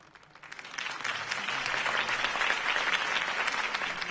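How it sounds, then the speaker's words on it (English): A large crowd applauds at a mayoral campaign rally after a speech, the clapping swelling within the first second into a steady, dense roar that continues to the end, moderately distant. "could have heard that applause"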